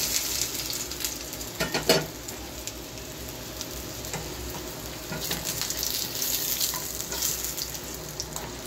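Taro pieces fry in tempered oil in a pan for mung dal, giving a continuous close sizzle with scattered pops and a few stirring clatters, and no one speaking.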